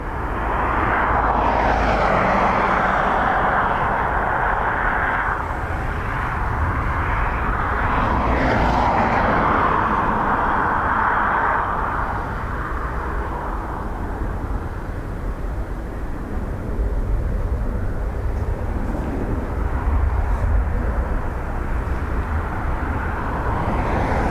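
An ATR turboprop arriving at Dublin Airport in windy weather, heard as a loud, steady engine roar mixed with gusting wind noise throughout, swelling slightly early on, with no talking.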